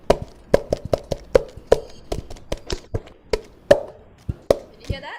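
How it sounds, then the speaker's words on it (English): Sharp percussive taps and knocks from a cup struck and tapped with the hand form a quick, steady repeating rhythm, close and crisp, with a faint voice in the background. "let's do this with your cup and with your hand"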